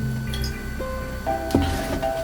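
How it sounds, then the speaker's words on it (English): A paintbrush dipped into a cup of water while acrylic painting, giving a brief wet squish and drip near the middle, heard close up over faint room tone. "So I'm going to dip into our water."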